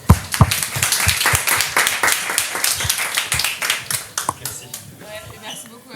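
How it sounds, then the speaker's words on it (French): An audience at a French digital networking evening claps for a speaker after her talk. Sharp, distinct handclaps come in a quick patter that thins out and fades toward the end. "Et puis merci Julia, je pense qu'on peut l'applaudir."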